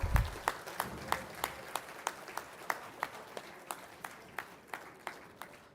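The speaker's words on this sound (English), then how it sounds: "Let's give a big round of applause to all our dual degree graduates." A graduation ceremony audience applauds dual degree graduates with sparse, evenly spaced claps, likely from only a few people, fairly faint and fading slightly over several seconds.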